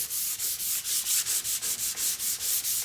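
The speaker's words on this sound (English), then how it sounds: "lightly sanding or buffing with a 400 grit sandpaper in between the first and second coat" Fine 400 grit sandpaper rubbed lightly over a wood finish on a charcuterie board between coats, making about a dozen steady back-and-forth scuffing strokes in an even rhythm, close and fairly loud with no voices.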